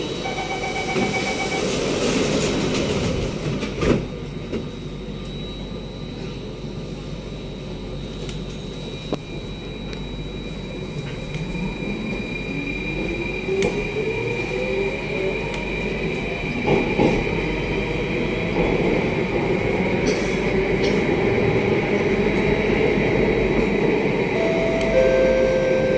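SMRT C830 metro train pulling out of One North station, a loud rumbling interior ride with rising whine of the traction motors as it gathers speed and steady rolling noise underneath.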